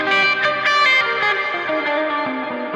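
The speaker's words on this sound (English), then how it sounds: "even with all this reverb and delay, you can still hear every note" Electric guitar run through the Neural DSP Archetype Rabea plugin, heavy reverb and delay smearing sustained notes into a dense, shimmering wash, loud and steady with no voices.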